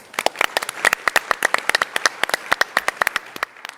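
Sparse audience applause at a startup pitch competition session, a handful of distinct, close hand claps in an irregular patter rather than a full ovation.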